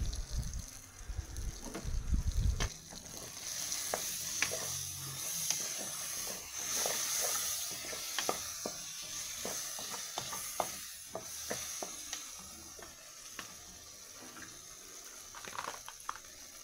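Onion browning in a pan for easy stroganoff gives a steady soft hiss and sizzle, with scattered clicks and clinks of a utensil as ketchup and mustard go in, plus a brief low thump near the start.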